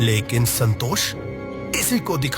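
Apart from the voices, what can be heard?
No everyday noises stand out.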